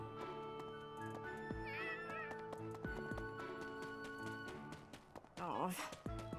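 Cat meowing in Fire Emblem Three Houses, a short wavering mew over steady game music and ambience, with a brief brighter cry near the end.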